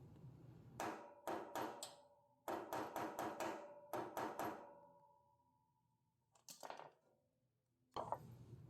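A hammer drives an extractor into a sheared-off bolt, giving sharp metallic strikes in quick clusters of three to five blows, separated by short pauses and a couple of lighter, isolated taps, close and clear with no talking.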